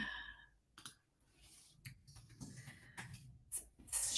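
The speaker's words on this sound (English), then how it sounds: "Can you hear me clicking away?" A computer mouse clicked repeatedly, a handful of sharp, faint clicks spaced irregularly over a quiet background, ending in a brief noisier burst.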